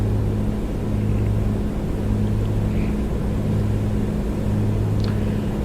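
A Piper Comanche 250 engine in Microsoft Flight Simulator settles into a steady, low droning hum, close and continuous, with a few faint clicks over the constant idle.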